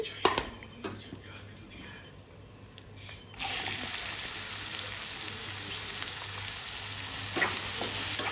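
Three chopped onions, cut small as for an omelette, hit a hot pan and fry toward soft; a loud, steady broadband sizzle bursts in about a third of the way through and continues to the end, after a few quiet kitchen clinks.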